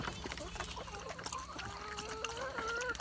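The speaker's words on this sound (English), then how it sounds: "Chickens." Chickens cluck and chatter inside a tobacco barn, a busy mix of fowl calls with rising squawks near the end, fairly close but low in level, with faint rustling and trickling in the background.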